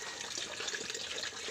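Water runs steadily from a tap on a farm, a continuous hissing splash of moderate level with no pauses and no voices.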